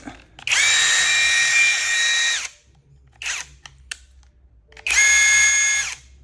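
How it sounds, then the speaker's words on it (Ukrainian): An INGCO CIWLI20236 20V brushless 1/2-inch cordless impact wrench runs up close in two loud, sustained bursts of about two seconds and one and a half seconds. A short, weaker pulse falls between them. "Якщо вам потрібно закрутити турбогвинт на 17 або більше, що в нього головка, то без проблем вставляємо і"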